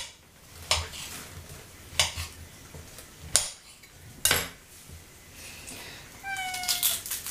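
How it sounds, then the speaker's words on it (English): A cat meows several times just behind the camera, mixed with clinks of pots and utensils outdoors in the woods; rising cries repeat near the end. "If you can hear anything, it's my cat just behind the camera."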